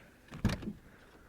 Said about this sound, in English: Okay, we open the door.